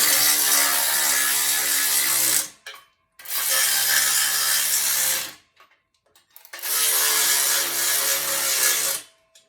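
A ratchet tightens bolts while a Marcy SM-4903 home gym is assembled, giving three long bursts of fast, loud, close clicking separated by brief pauses.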